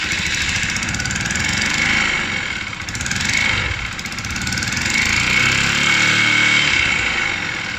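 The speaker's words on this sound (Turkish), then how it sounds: "duyduğunuz gibi böyle bir motorumuzda ses var" A Honda CBF 200 motorcycle engine with a faulty noise idles close by, a loud continuous buzzing rumble that dips and swells slightly, running on its own without speech.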